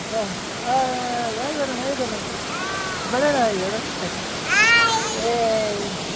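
A waterfall makes a continuous rushing roar in the background. Several high, wavering voice-like calls rise and fall over it at moderate level.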